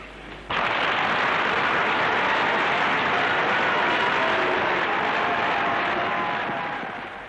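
A large crowd cheers and applauds for Patrice Lumumba's independence speech in the Congo, a sudden loud, dense wall of clapping and shouting that swells in and holds steady before easing slightly at the end.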